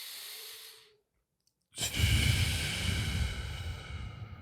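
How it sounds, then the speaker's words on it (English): A single close breath, a soft airy exhale that stops, then after a short silence a deeper, noisier inhale-like rush that swells and holds loudly to the end. "You hear that breath?"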